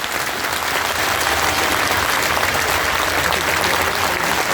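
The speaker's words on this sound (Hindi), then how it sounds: "तालियों की गड़गड़ाहट से आश्वासन दिला दीजिए" A large crowd at an outdoor political rally in Jafrabad, Seelampur, breaks into loud, sustained applause, a dense unbroken roar of clapping that holds steady throughout.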